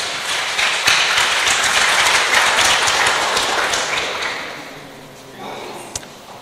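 Church congregation clapping in thanks during a Vietnamese Protestant sermon, a loud sustained round of applause that gradually fades away, ending with a single sharp tap.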